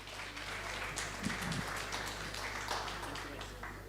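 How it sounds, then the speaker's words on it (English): Faint audience applause at the live draw for the Bayhill Premier Cup football tournament, a soft, even patter of clapping in a room with a steady low hum underneath. "Ladies and gentlemen, a round of applause for Mr. Michael Brains."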